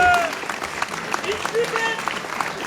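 A crowd at a protest press conference against mega-basins claps steadily in a dense patter of applause, with a few voices and cheers rising over it.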